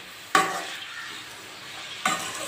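Onions sizzling and frying in a pan for Tamil garlic kulambu, a steady low hiss with two sharp stirring bursts near the start and toward the end, fairly close and with no talk.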